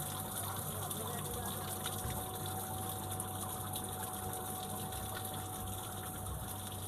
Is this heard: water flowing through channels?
yes